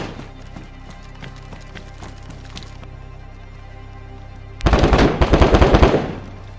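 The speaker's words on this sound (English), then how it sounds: "There's a lot of shots going on here." Gunshots in DayZ: quiet scattered pops for the first few seconds, then a loud close burst of rapid-fire shots near the end.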